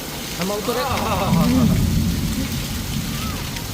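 Heavy monsoon rain pours down in Kalavad, a dense, steady hiss that fills the whole stretch while people talk close by.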